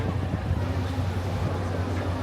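Low steady rumble of the Mark Twain Riverboat's engine and water wash at Disneyland, with faint wind over the microphone, continuous throughout.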